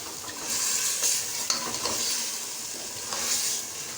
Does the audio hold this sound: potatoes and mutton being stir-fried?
yes